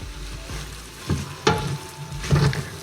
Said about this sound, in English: Then we're going to stir and continue to break up the ground meat.